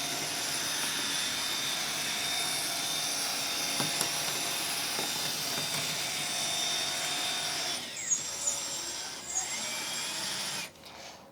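A Lesu LR945 three-arm RC hydraulic excavator whines steadily as its independently driven tracks spin it in place, a continuous high motor drone that cuts out abruptly near the end.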